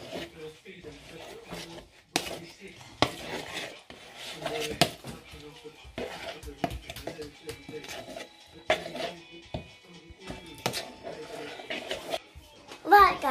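Cooked tagliatelle tossed with olive oil in a bowl, giving soft scraping and clinking of a utensil against the bowl in irregular bursts, with a child and an adult talking over it at close range.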